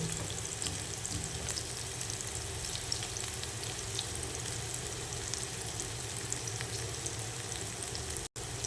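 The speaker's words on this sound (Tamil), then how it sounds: "நல்லா இதாக ஃப்ரை ஆகிட்டுருக்கு." Mutton keema kebabs fry in a pan with a steady, close sizzle and crackle that holds throughout, broken only by a brief dropout near the end, with no talk.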